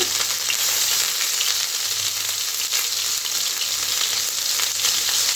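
Cumin, mustard and ginger pastes fry in a pan for a taro dish, a dense continuous sizzle with faint crackles and a low steady hum beneath, close and even throughout, no voices.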